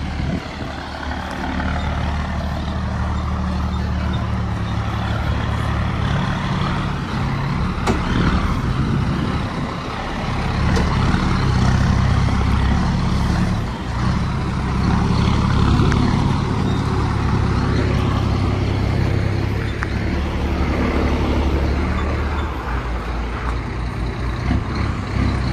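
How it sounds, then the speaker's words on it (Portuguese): A truck arriving from a trip, its engine rumbling loudly and steadily throughout, with continuous road and vehicle noise close by. "Chapinha com o caminhão do Zé Pequeno aí, ó. Chegando aí de viagem"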